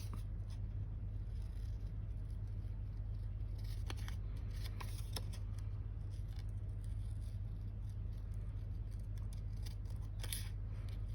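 Faint snipping and rustling of scissors cutting paper, a few quick cuts scattered over a steady low background hum.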